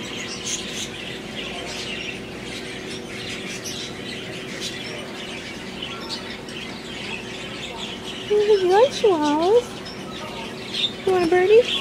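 A small toy bird gives a few bright, rising-and-falling chirps near the end, fairly close and loud, over a background of faint household murmur.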